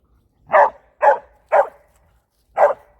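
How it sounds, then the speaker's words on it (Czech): A dog barks four times during an obedience training session, the sharp barks coming close and loud at a steady rhythm with a longer pause before the last one, with no talk over them. "Pokud se stane, že pes při cvičení začne štěkat, cvičení přeruším a počkám, až se sklidní."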